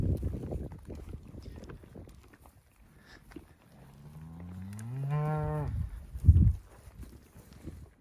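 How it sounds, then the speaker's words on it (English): A herd of cattle on open range moos, one loud, drawn-out low call rising and falling near the middle, with wind noise and a few scattered footsteps or rustles around it. "Got lots of cows today."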